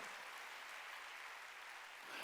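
Members of a church congregation at a Wednesday worship service clap together in a dense, even wash of applause that runs without pause, faint and slightly distant, with no speech over it.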